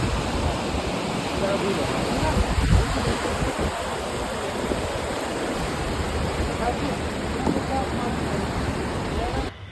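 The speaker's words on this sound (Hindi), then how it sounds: "यहाँ पर पानी की आवाज़ बहुत ही अच्छी आ रही थी।" A river in Sonmarg, Kashmir rushes steadily and loudly, a continuous broad roar with no pauses, filling the whole stretch.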